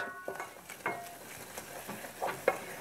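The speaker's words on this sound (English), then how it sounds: "add the flour and stir it up" A spoon stirs flour into hot melted butter in a pan for Welsh rarebit, giving a few soft scraping strokes over a gentle sizzle, close by with no talking.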